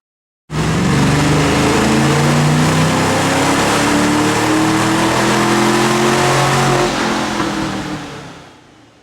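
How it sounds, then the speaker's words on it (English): A 1994-95 Ford Mustang GT 5.0 V8 with throttle body and cold air intake bolt-ons runs hard on a dyno, one loud continuous pull with rising engine pitch over about eight seconds before the roar fades out. "Now we can run the car on the dyno and see how much power we've picked up with these super easy and affordable bolt-ons."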